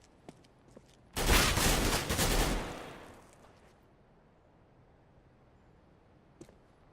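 A rapid burst of automatic gunfire in a competitive bomb-defusal shooter game, a dense volley lasting about two seconds and then fading, with one faint isolated shot later.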